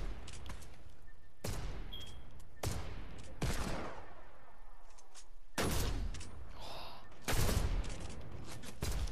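Gunfire crackles in a Fortnite match, with several sharp bursts of shots spaced a few seconds apart and each ringing out loud and near.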